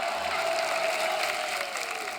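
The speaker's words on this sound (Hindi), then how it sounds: "एक बार जोरदार तालियां हमारे मेहमानों के लिए।" Studio audience applause for guests on a comedy talk show: a dense, steady patter of clapping from a crowd, fairly loud and sustained, with a faint tone and music-like hum beneath.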